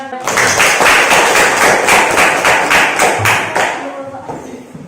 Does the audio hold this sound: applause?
yes